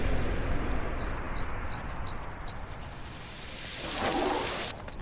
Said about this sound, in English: Flocks of pipits feed on grass seeds.